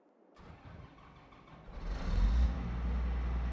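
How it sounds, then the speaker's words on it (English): A vehicle engine starts up in The Contractor USA video game, cranking into a low rumble that swells and settles into a steady idle. "There we go, engine fired up."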